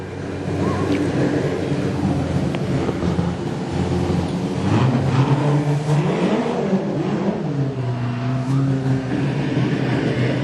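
Race car engine roaring steadily down the back straight at Gympie Speedway during a National 4's final, a loud continuous drone with rising and falling engine pitch under wind noise, no talking.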